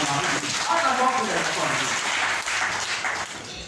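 A Kikuyu Sunday church congregation breaks into applause during a sermon, sustained clapping running throughout while the preacher keeps talking over it.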